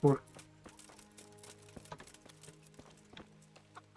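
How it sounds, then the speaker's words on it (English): Hooves of a video game horse in Kingdom Come: Deliverance clip-clop in an uneven rhythm of light knocks over a steady musical hum, starting with a sharp louder hit. "I didn't mean to summon the horse."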